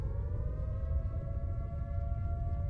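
Siren Head's wailing siren in a video game, a long sustained tone holding steady over a low rumbling background, fairly loud and unbroken, with no voices.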